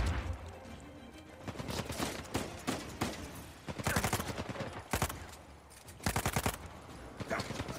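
Gunfire in Uncharted 4, sharp rapid bursts of shots coming in clusters, some close and loud, others quieter, during a firefight.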